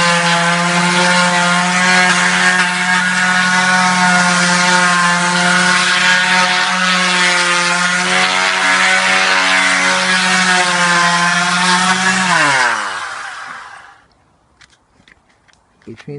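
A power sander drones loudly and steadily on old wooden garden chairs being restored, a constant motor whine that runs for about twelve seconds before winding down and stopping, leaving near silence.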